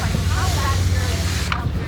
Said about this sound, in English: So I'm going to do a spray here, and I might have to spray a little bit more.